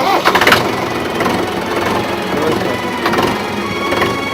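A tractor engine running steadily in a rural Haryanvi setting, a continuous loud mechanical chug with a harsh rattling texture throughout.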